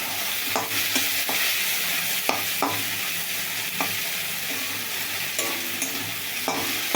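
Salted fish fries in a pan with a steady, dense sizzle, close and loud throughout, broken now and then by the scrape and clack of stirring.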